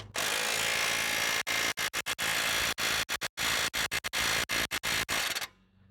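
An impact wrench works on a Ford Flex rear upper control arm, loud continuous whirring and hammering interrupted by many short stops and bursts, then cutting off abruptly to quiet.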